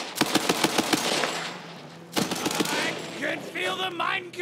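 Rapid bursts of automatic gunfire from a weapon in the video game Borderlands 3, a fast rattling volley followed by a second burst and scattered electronic game effects, loud and close.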